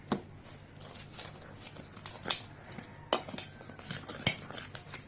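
A spoon stirs roasted cashews, raisins and almonds into cupcake batter in a bowl, giving quiet scraping with scattered sharp clinks against the bowl's side.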